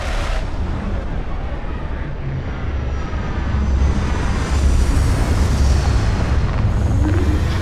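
Spaceship touching down in the game Starfield: a steady, loud low roar of engine thrust and rumble that keeps going and swells partway through, with faint voice underneath.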